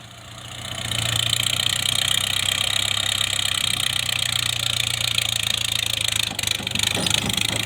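A tractor engine runs steadily nearby, a loud continuous mechanical drone with a low hum and rattling overtones, rising in level after the first second.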